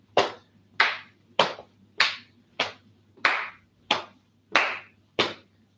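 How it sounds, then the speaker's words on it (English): Sharp, evenly spaced claps, about ten in a row at a steady moderate pace, sound close and clear as someone taps and claps along in a low-intensity cardiac rehab exercise class. "So you can tap and clap."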